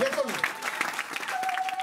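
Church congregation applauding and cheering during a sermon, a brief wash of clapping mixed with voices and a sustained vocal tone.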